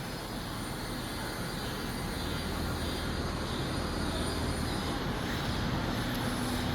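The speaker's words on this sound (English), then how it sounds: "This is the pump to pumping the wax to this filling tank." The wax pump on an 8-head wax filling machine runs in a factory, giving off a steady, broadband mechanical whir that holds at an even level throughout with no pauses.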